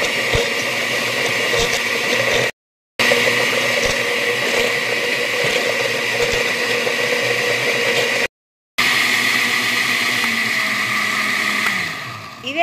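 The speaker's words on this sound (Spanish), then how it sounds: "vamos a licuar la banana con la cucharada grande de aguacate y el huevo enterito con cáscara." A blender liquidizes banana, a large spoonful of avocado and a whole egg with its shell, a loud steady whir running continuously with two brief pauses and a changing pitch toward the end.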